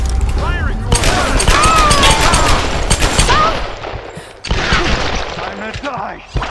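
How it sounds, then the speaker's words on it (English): A loud exchange of gunfire in the video game Tomb Raider (2013), dense bursts of shots with booms and mechanical clatter, mixed with voices shouting and a sharp sound near the end. "Firing your gun!"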